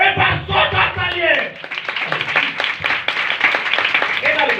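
Live audience in a church gathering bursts into loud, sustained clapping and applause, a dense crowd of hands mixed with a voice speaking over it.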